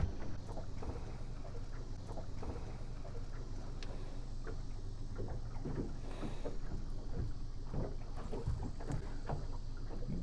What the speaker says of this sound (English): I'm going to trim the engine up until I hear it starting to break the water.